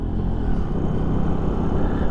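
A Benelli TNT 135 small motorcycle engine hums steadily while riding, a close, constant low rumble with a throbbing pulse and no voices.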